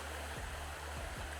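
A river runs past ferns and snowdrops in a quiet outdoor scene, its water flowing in a steady, soft, continuous rush with a few faint low thumps.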